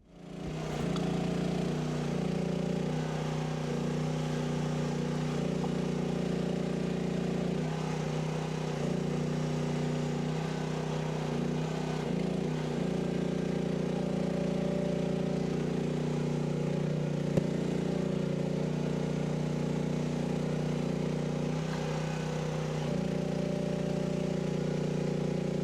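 A Chinese mini excavator runs with a steady, droning engine throughout while it widens and flattens ground and shifts large rocks. The sound is continuous and fairly close, with no speech.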